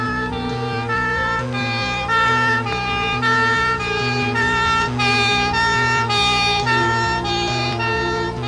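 Ambulance siren from an emergency vehicle on a street in a Turkish comedy film, a loud continuous wailing tone with rich harmonics rising and falling steadily throughout, with no talking.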